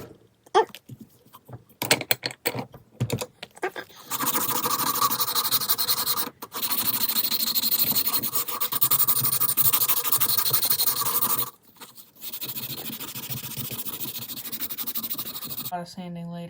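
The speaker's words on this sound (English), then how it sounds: "Time for some sanding with this little thing." Hand sanding of a handmade wooden swimbait lure, a steady abrasive rasping close by in long continuous strokes with brief pauses, preceded by a few scattered scratches and taps.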